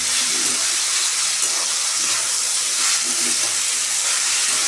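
Green beans sautéed in hot oil with tomato, giving a loud, continuous close-up sizzle and hiss with faint stirring, and no talk.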